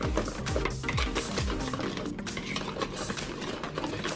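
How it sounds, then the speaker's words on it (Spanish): Cake batter with banana and milk is beaten steadily by hand in a bowl, giving a continuous, busy run of close, rhythmic clinking and scraping strokes with no talking. "Esto es de batir, batir, batir, batir y batir."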